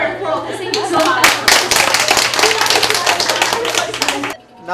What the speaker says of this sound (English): we'll give her a applause.